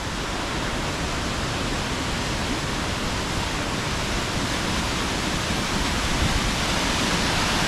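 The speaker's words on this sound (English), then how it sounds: "And we're met with a beautiful waterfall." A waterfall in a secluded hidden valley roars as a dense, unbroken wash of falling water, loud and close, with no talk over it.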